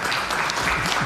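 An audience in a school board meeting claps in a dense, steady patter of applause that lasts about a second.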